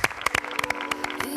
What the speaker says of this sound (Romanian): Acum aplauze pentru Raluca Muntean!